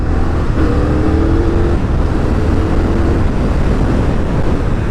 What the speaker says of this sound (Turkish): Bak gaza açıyorum nasıl titriyor.